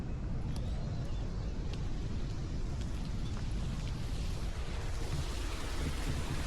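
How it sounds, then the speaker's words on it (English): A waterfall in a garden area near a pond gives a steady, distant broadband rush of falling water that stays even and fairly faint throughout, with a few faint clicks and no voices. "can you hear that sound? It's like a waterfall."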